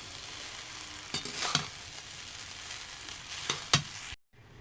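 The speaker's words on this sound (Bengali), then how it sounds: "ভালো করে মিশিয়ে নেব।" Jeera rice being stirred in a hot pan with black pepper and salt, a soft steady sizzle broken by two clusters of scraping, clattering stirs close by, ending in sudden silence.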